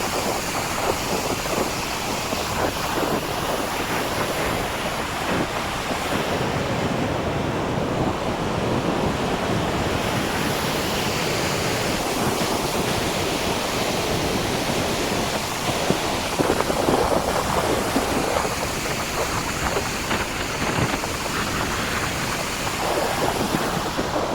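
The Shetrunji river flows in the Gir forest with a loud, steady rushing wash that continues unbroken, likely mixed with wind buffeting the microphone.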